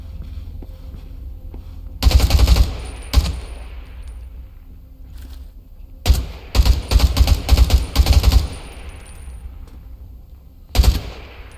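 Bursts of automatic gunfire in the zombie survival game Undawn, several rapid volleys and single loud shots separated by quieter stretches with no talk.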